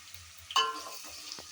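Green chillies and carrots drop into a hot pan for avalakki, with a sharp metallic clink followed by bursts of close sizzling that taper off.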